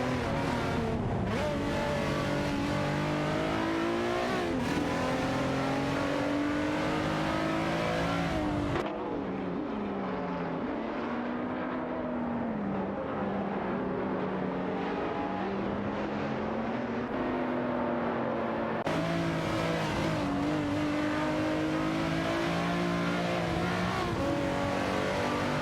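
A Nissan 350Z GT300 and an Aston Martin DBRS9 battling for position in a race, loud engines howling and shifting pitch through gear changes and revs, a continuous close roar with an abrupt cut midway, no voices.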